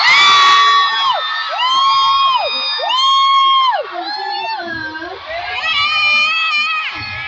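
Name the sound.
concert crowd screaming and cheering at a show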